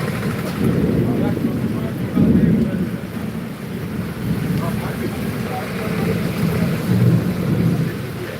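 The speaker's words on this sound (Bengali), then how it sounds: "আজকে শিলাবৃষ্টি হয়নি তবে বজ্রবিদ্যুৎ সহ বৃষ্টি শুরু হয়েছে" Steady, loud rain with rumbling thunder during a thunderstorm over Medinipur town, a continuous dense wash with low rolling swells and no pauses.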